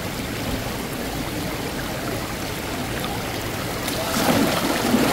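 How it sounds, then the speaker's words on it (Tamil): Water rushes forcefully down the Ayn Tobruq waterfall stream near Salalah, Oman, in the Khareef monsoon season, a steady, close, dense roar throughout that swells slightly louder near the end, with a faint murmur of voices beneath it. "ஃபோர்ஸாக வருதாங்க தண்ணி."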